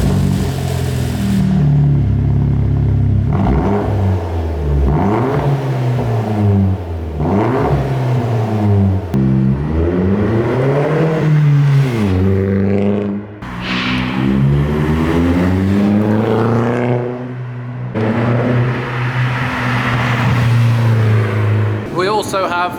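A V8 car out on a test drive after a new map is loaded, its engine revving up and down through rising and falling sweeps, loud and close throughout, with a voice talking over it at times.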